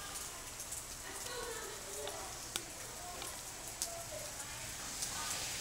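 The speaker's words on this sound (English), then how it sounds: "And it's raining right now." Steady rain falls outdoors as a soft, continuous hiss with scattered faint drip ticks, fairly quiet throughout.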